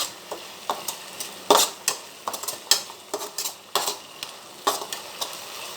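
Utensil stirring soy sauce and chilli sauce together in a cooking pan for veg Manchurian gravy, heard as a series of irregular scraping clinks and taps against the metal, close and fairly quiet, with no talking.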